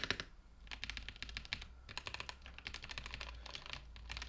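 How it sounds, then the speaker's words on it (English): Someone types on a Kwumsy K3 mechanical keyboard, producing rapid, close clicky keystrokes in bursts with brief pauses, heard alone. "The sound of the keyboard is also great."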